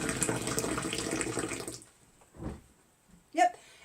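Hot water streams from a height onto a tea bag in a mug in a kitchen, a loud, steady splashing pour that cuts off abruptly, followed by a couple of faint, brief sounds.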